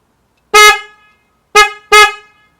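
Three loud, sharp honks close by from a homemade handheld car horn: one short blast, a pause, then two quick blasts in a row.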